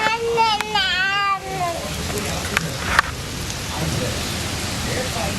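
Steady rain falls throughout a Florida thunderstorm, with a sharp crack of thunder near the middle and a child babbling in high tones over the downpour at the start.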